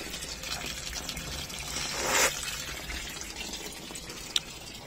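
Spring water pours and trickles from a hot spring for a sip, a soft steady splashing that swells briefly in the middle of the clip, with a sharp tap near the end and no talking.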